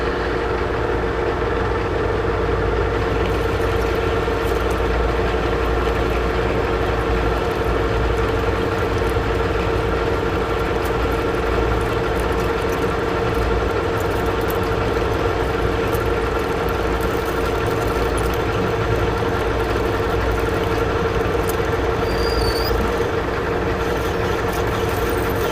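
A Defiance boring mill takes its final cut in a workshop, a steady, loud mechanical hum with a fixed drone and faint rattling running unbroken throughout.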